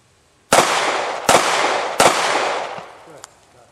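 Three sharp pistol shots fired at an outdoor pistol range, loud and close, spaced roughly three-quarters of a second apart, each ringing out with a short echoing tail before fading.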